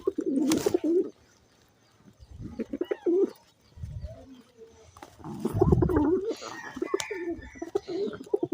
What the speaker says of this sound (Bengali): দেখেন কিভাবে হাত থেকে খাবে কবুতরগুলো